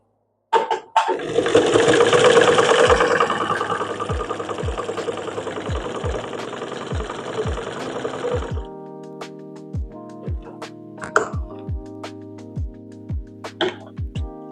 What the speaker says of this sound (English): So now we're going to sew with these 3 settings adjusted.